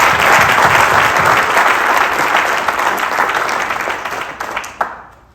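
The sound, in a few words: audience applause for professional women triathletes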